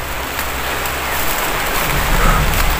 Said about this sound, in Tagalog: dahil umuulan na.